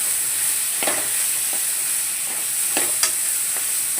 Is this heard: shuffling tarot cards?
no